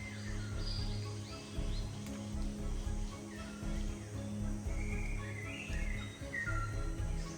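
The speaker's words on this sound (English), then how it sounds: "The tua, New Zealand's melodic songbird." A tui, New Zealand's melodic songbird, sings varied bright phrases through a continuous bed of insect buzzing and crickets, with other chirps scattered across the outdoor scene at moderate distance.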